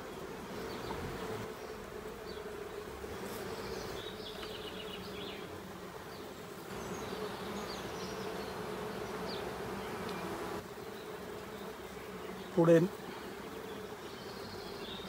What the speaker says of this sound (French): des abeilles qui sont en train de naître